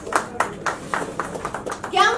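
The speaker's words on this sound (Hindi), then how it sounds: "क्या हम थोड़ी और एनर्जी के साथ तालियां बजा सकते हैं?" An audience claps at a Hum Do Humare Baarah film poster launch, a loose run of brisk, rhythmic clap bursts swelling slightly toward the end, with voices mixed in.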